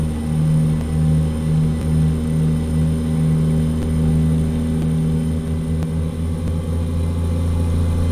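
A truck fitted with a Cummins NTC Big Cam 350 diesel engine, cruising in American Truck Simulator: a steady, low droning rumble with a faint cyclic pulse, loud and continuous, with no voices.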